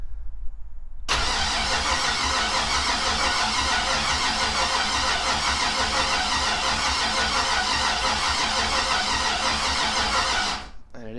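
A 5.3 turbo engine in a Mustang with weak spark cranks and runs with a loud, steady, dense roar for nearly ten seconds, close by, before dropping off.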